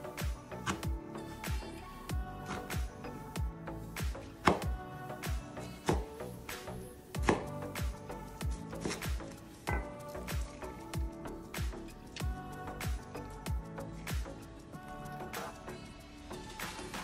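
A knife chopping boiled spinach into short lengths on a cutting board: a steady series of sharp, close taps repeating roughly every half second, with no voices.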